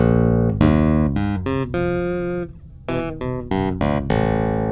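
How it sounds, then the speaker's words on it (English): Bright tapped notes on Chapman Stick strings ring out in short bursts with brief pauses between, loud and close, each note sharply attacked and sustaining with a metallic tone. "you can hear when I tap these strings"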